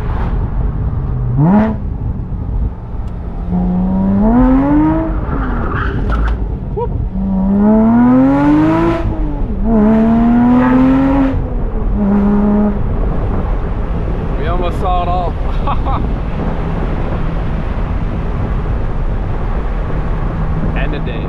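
A Porsche Boxster Spyder with a manual gearbox revs loud and close on sunny back roads, its engine note climbing and dropping through several gear changes, while someone talks over the drive.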